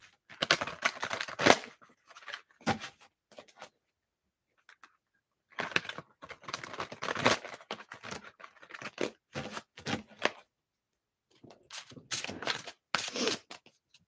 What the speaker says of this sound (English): I'm going to give this a good shuffle